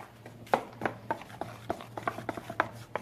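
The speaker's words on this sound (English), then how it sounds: "Still have a little bit more stirring to do" Spoon stirring thick low-carb muffin batter with chocolate chips and coconut, producing a steady run of soft scraping, knocking strokes against the bowl at an uneven rhythm, close and fairly quiet with no talk.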